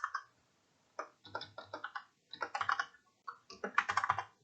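Close, crisp computer keyboard typing comes in quick irregular clusters of keystrokes separated by short pauses, in a quiet room with no talk.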